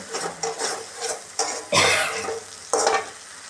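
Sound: tomato pieces being sautéed with fish curry masala

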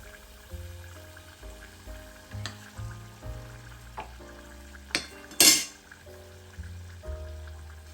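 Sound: eggs deep frying in oil in a small pot

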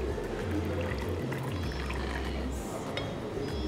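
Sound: pouring Arabic coffee

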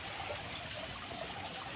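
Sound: garden waterfall water flowing

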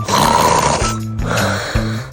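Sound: imitation of loud snoring

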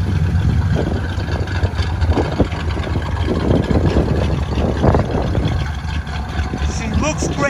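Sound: classic car V8 engine idling

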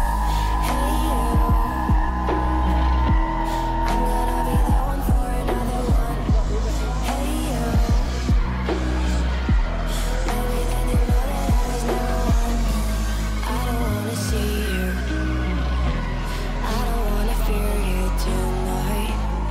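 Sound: Toyota Supra 2JZ twin turbo engine

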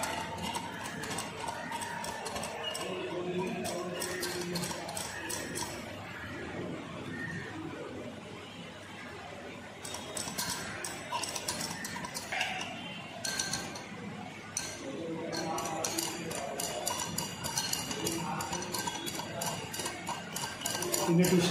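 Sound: stirring a potassium oxalate solution

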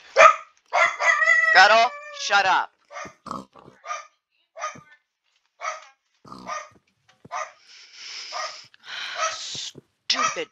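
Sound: dog barking and growling

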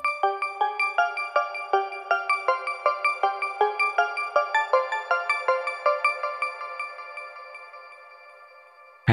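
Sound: synthesizer melody with effects

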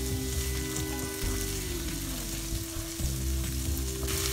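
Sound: onions frying in a pan

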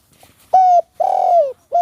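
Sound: spotted dove cooing

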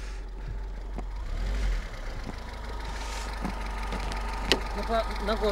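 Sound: car engine exhaust idling

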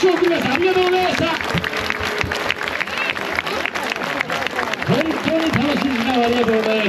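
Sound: audience applause at shrine festival

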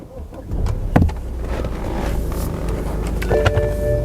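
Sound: BMW 520d car engine starting

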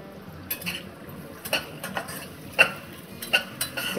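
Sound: stir-frying chopped garlic in a pan for pepper paneer

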